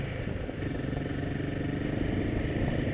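Himalayan 450 motorcycle with a 452cc engine heard while riding, a steady mid-pitched engine drone with faint mechanical clatter, constant and fairly close, no voices.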